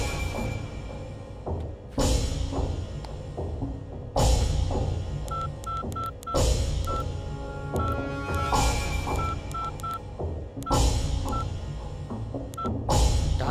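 Mobile phone keypad tones beep one by one as a number is dialed, short evenly pitched beeps spaced irregularly over a steady background of film music and ambience in a Telugu movie scene.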